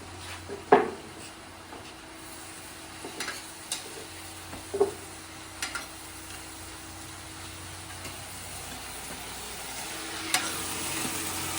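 Green peas fry and sizzle in a home kitchen pan while a utensil stirs them, soft scraping knocks recurring every second or two over a steady quiet sizzle, with no talking.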